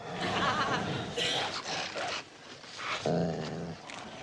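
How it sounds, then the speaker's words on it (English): Dogs growl and snarl in rough, overlapping bursts, close by, with ripping and scuffling sounds as they tear a uniform to pieces. "Them dogs are tearing that uniform to pieces."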